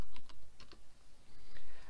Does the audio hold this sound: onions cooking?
no